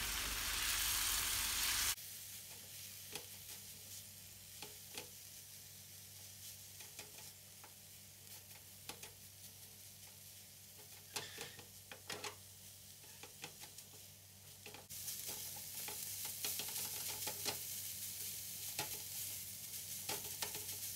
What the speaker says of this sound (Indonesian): Masukkan kelapa yang sudah dikukus dan ditumis sampai matang dan sedikit mengering.